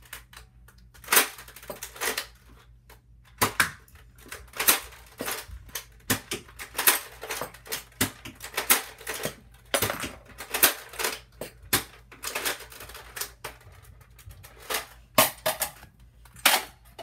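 Air Warriors Hawk toy blaster being reloaded, a long run of sharp plastic clicks and snaps in irregular bursts with brief pauses, close and clear with no talking.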